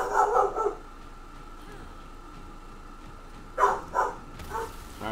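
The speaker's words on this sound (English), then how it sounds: "Why my dog barking?" A dog barks indoors in short, loud bursts: a cluster of barks at the start, then a couple more barks a few seconds later, with quieter room noise in between.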